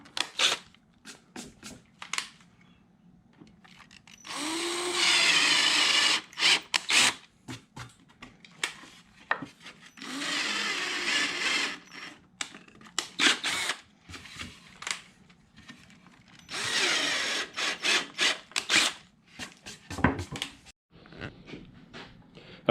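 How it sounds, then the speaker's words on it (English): A power drill with a slightly larger bit cuts a countersink hole for a screw while building a snack console for a 1971–77 Dodge van: several short, close bursts of whirring, separated by pauses with light handling clatter. "we're just using a slightly larger bit here to get the countersink"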